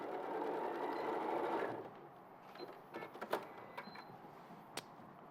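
A domestic sewing machine stitching a fabric pocket whirs steadily for under two seconds, then stops, followed by scattered clicks and light handling noises.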